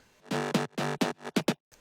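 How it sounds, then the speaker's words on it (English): A distorted synth bass plays the main groove as a handful of punchy, offbeat stabs of uneven length, loud and upfront with no voices. "So then this is the bass."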